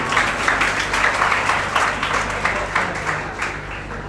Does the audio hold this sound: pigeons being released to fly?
no